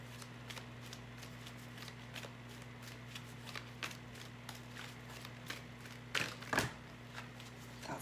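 Tarot cards are shuffled in a quiet room, giving a steady run of soft riffling flicks and slaps with a couple of louder card snaps near the end, over a faint constant electrical hum.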